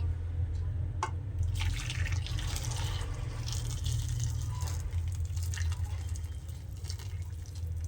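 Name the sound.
pouring hot jaggery mixture into pan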